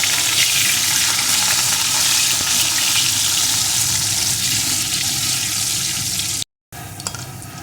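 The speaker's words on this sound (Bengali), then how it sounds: "এখন আলুটাকে একটু ভেজে নেব" Potato pieces sizzle steadily in hot oil in a pan for a pumpkin and potato sabji, a loud continuous frying hiss that cuts out briefly near the end and then resumes.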